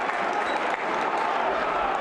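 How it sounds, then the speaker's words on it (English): Home supporters at a third-division football match between Eintracht Braunschweig and SC Freiburg II applaud in a dense, continuous wash of clapping that fills the stadium, while a commentator's voice runs beneath it. "Well-deserved applause"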